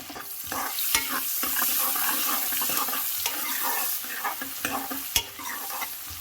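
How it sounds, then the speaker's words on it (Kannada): Onions and green chillies fry in hot oil with butter, giving a steady loud sizzle with scraping stir sounds and a few sharp utensil knocks. "ಇದರಲ್ಲಿ ಈರುಳ್ಳಿ ಮತ್ತು ಗ್ರೀನ್ ಚಿಲ್ಲಿ ಎರಡನ್ನೂ ಹಾಕಿದ್ದೀನಿ."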